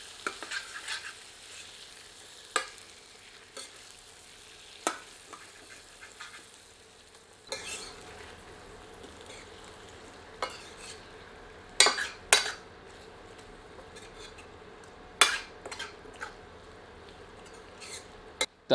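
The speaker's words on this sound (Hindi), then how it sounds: "सबको मिलाकर 2 मिनट मध्यम आंच पर भूनते हैं।" Chicken with turmeric and salt being sautéed over medium heat in a pan for a dhaba-style curry: a soft, steady sizzle broken by scattered scraping and clinking stirs of a ladle, with a few sharper knocks near the end.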